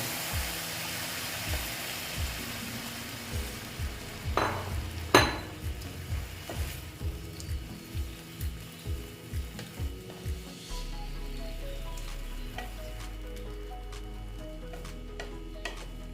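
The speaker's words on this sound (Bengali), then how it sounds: "ওই দুধটা দিয়ে দেবো এই যে দেখো দুধটা আমি দিয়ে দিচ্ছি দুধে সেদ্ধ হওয়ার জন্য" A pot of milk for carrot payesh heats on the stove as a spoon clinks and stirs with a run of evenly spaced taps. A low steady hum follows near the end, faint and close, with no talking.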